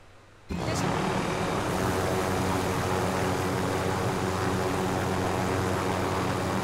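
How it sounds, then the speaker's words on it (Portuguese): A helicopter in Call of Duty Warzone kicks in abruptly after a short quiet lead-in, then its loud, steady rotor and engine drone holds unbroken at close range. "Aqui, achei um helicóptero."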